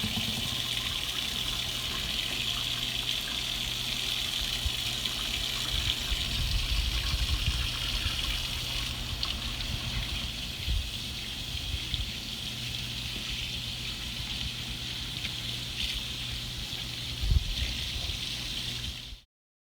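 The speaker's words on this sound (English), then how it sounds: "It's important to remember to wash your hands for 20 seconds while you're cooking." Water runs steadily from a kitchen tap as hands are washed during cooking, a continuous close gushing hiss that shifts slightly partway through and cuts off at the end.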